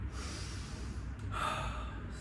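Slow, deep breathing, a long rushing inhale followed by an exhale, close and fairly steady with no talking.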